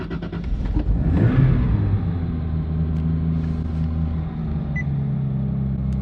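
A Nissan 370Z with a swapped-in Toyota 2JZ engine starts with a brief burst, then settles into a steady, loud low rumble that continues throughout.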